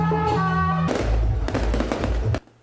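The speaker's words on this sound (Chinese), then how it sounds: "大型烟火一直放" Large fireworks set off at night for a temple festival celebration in Pingtung, Taiwan, with a rapid barrage of loud cracking bursts over a sustained roar, ending abruptly.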